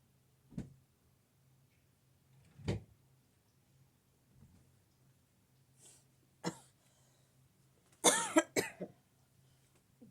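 Several isolated coughs ring out in a quiet room, spaced apart, the last a harsher burst of two or three coughs.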